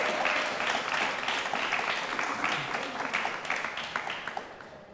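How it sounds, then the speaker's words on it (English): An audience applauds the education candidates at a student union debate, a steady dense clapping that holds strong and then tapers off toward the close. "Can we have a round of applause for our candidates"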